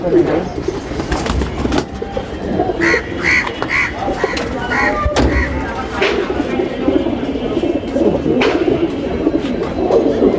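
Racing pigeons coo repeatedly in a loft, with soft throaty calls rising and falling close by, while people talk over them throughout.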